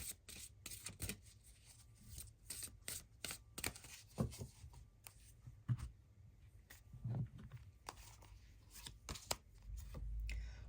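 A tarot deck is shuffled by hand in quiet, rapid bursts of riffling and sliding cards, with soft rubs and taps between the flurries, close and fairly faint.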